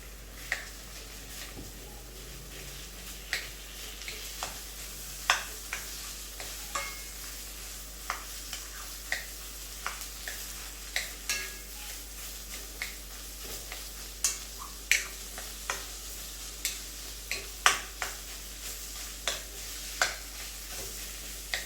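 Mashed potatoes being stirred in a pan for a potato stew, with a steady low sizzle and a run of soft, irregular spoon scrapes and taps across the whole stretch, close up and with no talking.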